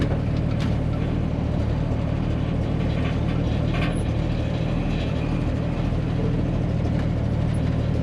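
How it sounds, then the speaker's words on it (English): Continuous loose rattling and clunking from the trunk of a 1965 Ford Mustang restomod while driving, under a steady low road and engine rumble, close and persistent throughout. "You guys can hear all that rattling in the trunk."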